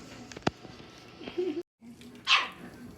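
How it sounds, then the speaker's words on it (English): A small dog barks once sharply near the start, then a louder yip or bark follows later, close by, with faint background noise between. "our little doggy keeps eating up our carpet"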